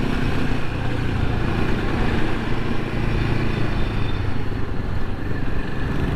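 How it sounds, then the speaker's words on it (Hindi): Dense road traffic with motorcycles mixed in, heard on the way to a first service for a Royal Enfield Himalayan 450: a steady, continuous rumble of engines close by, with no pauses and no voices. "ट्रैफिक बहुत है भाई"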